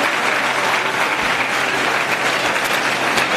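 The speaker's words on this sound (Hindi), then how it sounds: "एक बार जोरदार तालियों से देवली की जनता से मैं स्वागत चाहता हूं उन्हें।" A large outdoor crowd in Deoli, Delhi, applauds loudly to welcome Chief Minister Kejriwal at a government school opening, a dense, steady wash of clapping that holds from start to finish with no speech over it.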